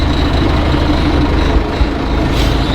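A classic John Deere tractor engine runs in first gear while chopping grass, a loud, steady low rumble with a constant drone close by and no talking.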